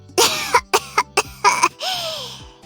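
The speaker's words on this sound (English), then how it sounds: "You're coughing up a fucking storm." Someone coughs hard in a quick run of four or five harsh barks, then drags out a raspy wheeze, all close and loud with no talking.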